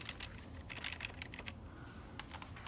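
Quick, uneven typing on a cheap, plasticky rubber dome keyboard, with soft clustered keystrokes in short bursts, a brief pause, and then a few more taps, heard close and quiet.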